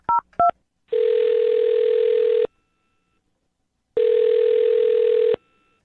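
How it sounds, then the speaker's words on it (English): Two short touch-tone dialing beeps give way to a loud, steady ringback tone that sounds twice with a pause between, heard alone over a phone line. "I'm going to dial his phone number right now"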